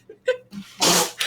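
One sharp, loud sneeze bursts out near the end, after a few soft breaths and small vocal noises.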